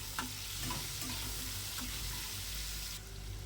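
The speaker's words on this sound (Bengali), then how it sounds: "লবণটা দিয়ে পেঁয়াজ আর টমেটোটাকে একসাথে ভেজে নেব" Onion and tomato with salt fry in a pan with a soft, continuous sizzle, close and fairly quiet, with a few light scrapes of stirring.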